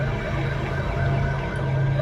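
A police car siren wails continuously in a film scene, a loud and steady tone that stays close throughout the short stretch.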